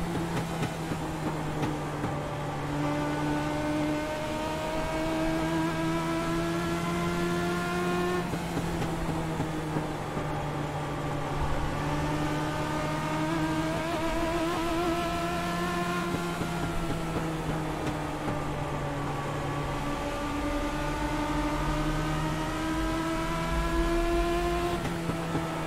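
Legends race car engines in iRacing at South Boston drone steadily and loudly, pitch rising and falling through gear changes and corners across a long sustained stretch with no talk.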